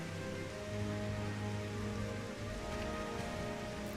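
Steady video-game rain patters on a hard surface, dense and even, with a faint low hum underneath and no voices.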